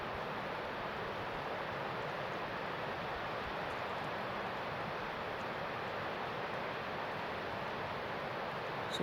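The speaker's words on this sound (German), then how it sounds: "auch relativ windig jetzt." Wind rushes steadily and evenly across the microphone outdoors at a butterfly site, a continuous broad roar with no voices.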